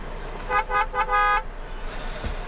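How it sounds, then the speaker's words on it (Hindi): Car horn honking in a series of short toots followed by one longer blast, loud and close over a low background rumble of traffic. "आपके हॉर्न बजाने से कोई हटने वाला नहीं है"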